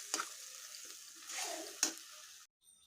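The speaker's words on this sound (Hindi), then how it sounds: "तो चलिए मसाला को अच्छे से फ्राई करती हूँ" Spice masala frying in hot oil in a pan, a faint soft sizzle with a few scraping stirs of a spoon, quiet and close, ending abruptly with no voices.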